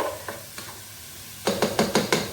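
Pork mince browning in a pan, a soft sizzle broken by a quick run of five or six sharp spatula scrapes and knocks near the end, close and without voices.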